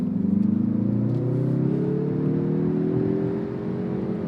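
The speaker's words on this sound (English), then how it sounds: "this engine really dies off at the top end in a very stereotypical turbo fashion" The turbocharged engine of a 2023 Mazda3 Turbo revs up smoothly and loudly, its pitch climbing steadily and then easing off near the end, heard from inside the car.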